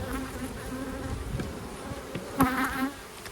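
Honeybees buzz steadily and close at an open hive during a colony inspection, a dense continuous hum that swells briefly near the end, with no talking.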